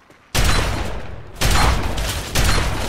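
Combat shotgun fire in Fallout 3: three heavy, booming blasts roughly a second apart, each loud and sudden with a lingering tail, and no talking over them.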